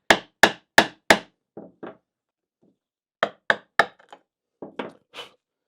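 Sharp wooden whacks of a mallet driving a chisel into wood while cutting inlaid dovetails by hand, four loud strikes in quick succession, then softer taps, a pause, and another cluster of hits.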